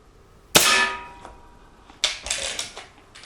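A Baikal MP-53M .177 break barrel air pistol fires a pellet into a steel sea can, giving one sharp crack with a ringing metallic clang, then a quick cluster of lighter clicks and knocks.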